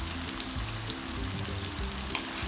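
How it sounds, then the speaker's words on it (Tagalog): Ground meat seasoned with black pepper sizzles steadily in a pan for chicken sotanghon guisado, a constant close crackle with no voices. "Luto-luto lang po muna natin ang ating giniling."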